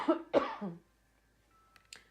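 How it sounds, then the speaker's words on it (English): A person coughs twice in quick succession close by, followed by quiet and a couple of faint throat sounds. "I have to cough really quickly"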